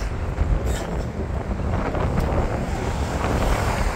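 Strong wind blows across a bridge, roaring and buffeting the microphone in a continuous, loud, low rush with no pauses.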